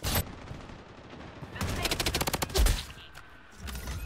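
Automatic gunfire in the shooter video game Blood Strike, an opening shot followed by a rapid burst of about a dozen evenly spaced rounds and a heavier blast, loud and close, with players talking over it.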